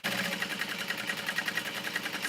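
A sewing machine set to a long stitch length runs steadily along a fabric seam, its needle producing a fast, even mechanical chatter up close with no talking.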